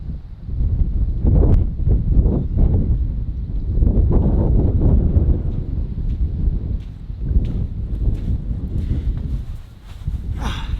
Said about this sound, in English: Yep, it's a little windy.